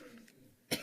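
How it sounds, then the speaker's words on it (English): One short, sharp cough bursts out close and loud at the end after a quiet moment in a meeting room. "And then I get this really bad cough"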